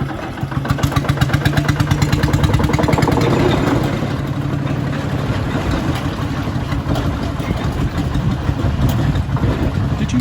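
A Deutz diesel locomotive engine opens up as it sets off toward the head shunt, a loud, near, steady chugging clatter that builds over the first few seconds and then holds a strong rhythmic throb.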